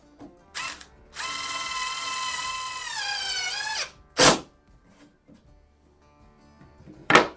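A screw is driven with a power tool in a workshop: the motor whines in one sustained burst of nearly three seconds that drops in pitch as it ends, followed by a few short clunks and clicks.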